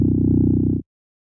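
A short synth bass note processed with the Polyverse Manipulator plug-in, pitch-shifted with frequency modulation and smear, sustains a thick, growly, harmonic-rich drone for under a second, then cuts off abruptly into silence.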